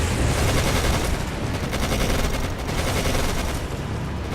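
Dense, continuous video game gunfire from Codename: Panzer Phase One rattles throughout, rapid bursts blending into a loud, steady barrage with no pauses.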